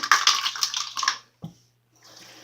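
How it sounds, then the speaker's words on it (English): A quarter cup of water is tipped into a bowl of brownie batter during home baking, giving a brief splashy pour that stops after about a second, followed by a soft thud and faint background noise. "Throw that water up in there."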